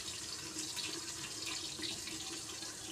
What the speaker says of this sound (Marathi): आपल्याला एक त्याच्यावर ताट ठेवायचं आहे आणि पाणी घालून ठेवायचं त्याच्यावर